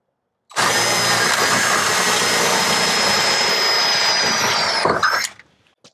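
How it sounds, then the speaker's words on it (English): A power drill drilling holes in metal starts abruptly and runs loud and steady for about four seconds with a high whine, then winds down and stops. "So now let's drill our holes."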